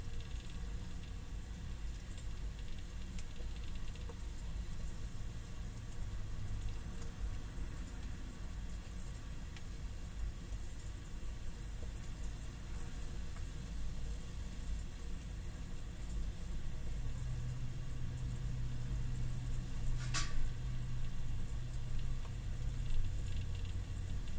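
A Fluval 407 aquarium canister filter for a turtle tank fills with water, giving a quiet, continuous gurgling rush over a low, steady hum.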